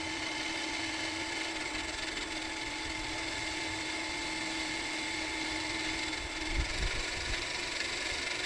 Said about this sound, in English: We're just going to full send it with the drill and see what happens.